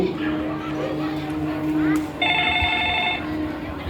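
A telephone rings with a repeated electronic trill, one clear burst of ringing lasting about a second amid a busy room with faint background voices.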